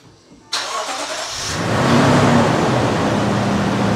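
A Lexus GX460 engine starts up: after a quiet moment comes a sudden loud crank and catch, then a steady, rising idle hum that fills the rest of the clip, close by with no talk.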